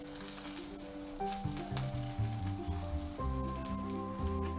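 Aubergine slices fry in olive oil with a continuous crackling sizzle, heard under steady background music.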